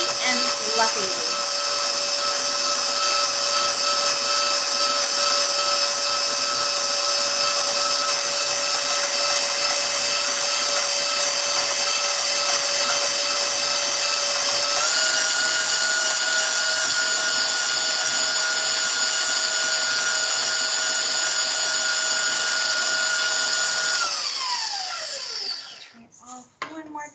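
An electric mixer beats banana bread muffin batter in a long, steady whirring drone. Its pitch steps up once partway through, and it winds down abruptly at the end as it is switched off.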